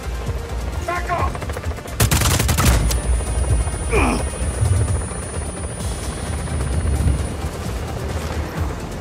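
A helicopter in the Xbox One video game Just Cause 4 thrums loudly amid bursts of machine-gun fire and explosions, with voices calling out in the thick of the battle.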